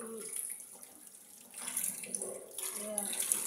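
Rohu fish being rinsed under a running kitchen tap, water splashing steadily into the sink with shifting flow as the fish is handled, fairly close and moderately loud.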